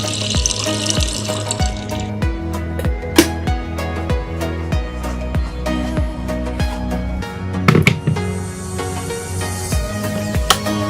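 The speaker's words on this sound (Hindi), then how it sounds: "So kettle खोला, पानी भरा and let it boil." Tap water runs steadily into an electric kettle in a Manali mountain rental, a continuous splashing stream with light clanks and taps of the kettle, close by and alone.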